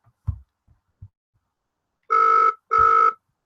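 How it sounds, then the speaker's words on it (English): An outgoing phone call on a live show rings twice, two loud electronic bursts after a few soft clicks, with no talking. "So I'm just going to get Andy on the phone because he's having some technical issues"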